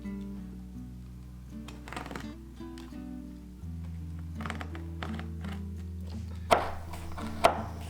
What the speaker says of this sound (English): Now the scissors are working, so that's good. Just slow going.